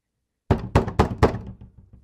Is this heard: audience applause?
no